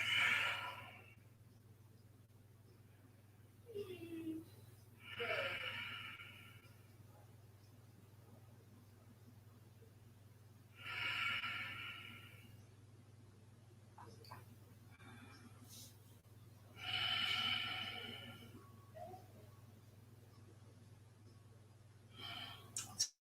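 Quiet, slow breathing during a restorative yoga class: soft airy inhales and exhales arrive every few seconds, close and gentle, with long hushed pauses between them over a low steady room hum.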